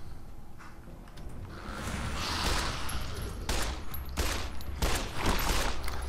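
Gunfire in Fallout New Vegas, several sharp bursts of shots in quick succession against a low rumbling background, growing louder toward the end.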